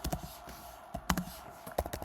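Keys on a computer keyboard tapped in short irregular bursts while coding styles for a React Native app, a few scattered clicks with quiet gaps between them, close and fairly soft.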